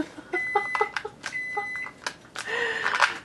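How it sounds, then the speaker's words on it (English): Two short electronic beeps sound from nearby, a steady tone cut into brief pulses, amid clattering and quiet handling noise. "you guys are going to have to deal with that microwave beeping"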